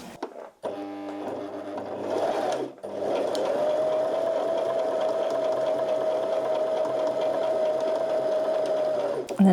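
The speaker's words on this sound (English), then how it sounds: "So if I go ahead and sew" A sewing machine stitches fabric, running as a loud, steady, continuous mechanical whir for several seconds after a brief start-stop at the beginning, close and with no talk over it.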